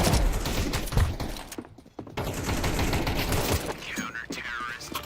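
Rapid gunfire volley in a Counter-Strike match, dense bursts of shots filling the mix with brief pauses and voices talking over the action.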